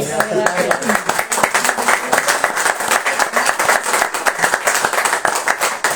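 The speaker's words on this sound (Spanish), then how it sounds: "un fuerte aplauso" A room full of people applauds at a book presentation, dense steady clapping lasting several seconds with a few voices mixed in.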